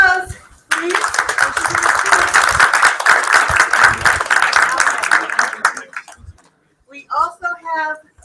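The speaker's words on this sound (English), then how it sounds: "give them a round of applause, please." A game job fair audience gives a round of applause for new recruits, a dense, loud burst of many hands lasting several seconds before fading out, followed by a brief voice speaking.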